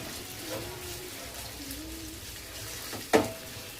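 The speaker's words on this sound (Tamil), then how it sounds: "பேனில் கொஞ்சம் நல்லா எண்ணெய் ஊற்றி நம்ம சிக்கனை" Chicken pieces fry in oil in a pan with a soft, steady sizzle, faint and close, interrupted near the end by a sharp clatter.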